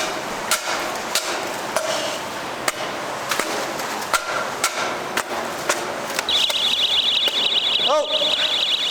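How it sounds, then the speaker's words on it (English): Sharp clanks and taps sound irregularly while cleaning a grease-clogged drain, then a gas detector alarm starts rapid high-pitched electronic beeping that continues steadily to the end. "Oh, my gas alarm's going off."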